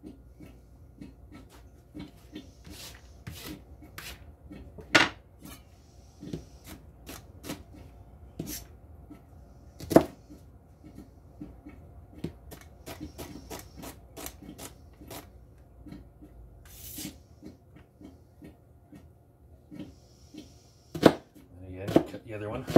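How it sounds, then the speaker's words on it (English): A knife dices an onion on a cutting board in short, sharp chops spaced irregularly over a low background hum, with a few louder thuds among quieter cuts. "In doing so, you end up with this beautiful diced onion."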